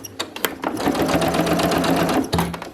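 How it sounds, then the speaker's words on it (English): A sewing machine stitches a pocket piece of a round zip bag, a steady rapid mechanical whir with fast needle clatter, close and continuous for a couple of seconds. "We're just stitching about 1/4 inch from the edge of the piece."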